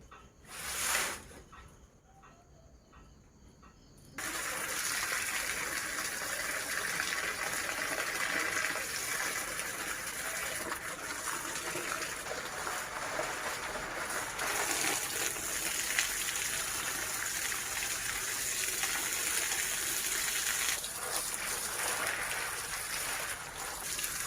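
Water gushes steadily as plants such as curry leaf and okra are watered in a home garden, a continuous splashing pour starting after a brief quiet moment and running on at moderate loudness, with faint birds in the background.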